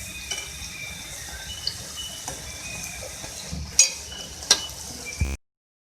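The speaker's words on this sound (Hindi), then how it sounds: "इस तरीके से हम सारे समोसे जो है वो फ्राई कर लेंगे" Moong dal samosas deep-fry in hot oil, giving a continuous even sizzle with a few sharp clinks of a utensil against the pan near the end before it cuts to silence, no voices.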